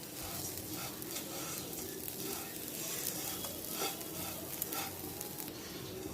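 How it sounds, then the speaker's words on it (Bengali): Laccha semai fries in a pan with powdered milk and grated coconut, giving a faint, steady sizzle with soft scraping and stirring sounds throughout. "সব কিছু একসাথে আমি 3-4 মিনিট ভাজি করে নিব।"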